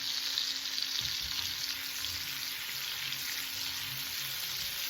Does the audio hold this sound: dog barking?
no